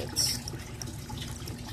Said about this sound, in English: It's just sitting there with the roots running underneath the water that's running over it